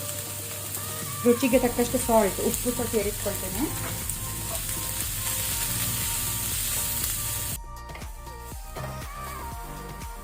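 Onions fry in a pan for Udupi-style chicken sukka, roasting until red-brown, with a steady close sizzle and stirring clatter under a voice speaking throughout.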